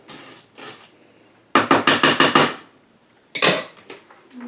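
Wet persimmon pudding batter mixed in a bowl, heard as a quick run of sharp, rhythmic clacks and scrapes of a utensil against the bowl, with a few separate bursts before and after.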